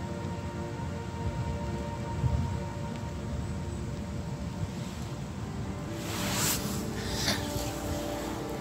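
Continuous rain and gusting wind outdoors, a dense steady wash with occasional louder bursts, no voices.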